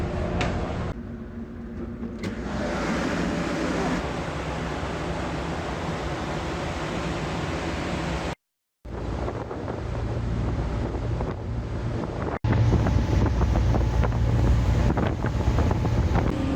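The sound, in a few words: ferry at sea with wind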